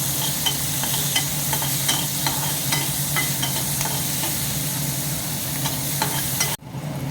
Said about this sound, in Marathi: हलवून घेऊया आपण